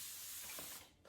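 Fine-mist spray bottle spritzing water onto houseplants, a single close, loud hissing burst lasting just under a second before cutting off.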